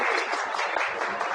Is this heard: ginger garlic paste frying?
no